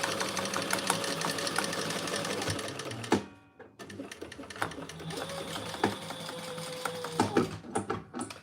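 A sewing machine runs fast through thin vinyl in steady rapid stitching, pausing briefly near the middle and then restarting with short uneven bursts and clicks.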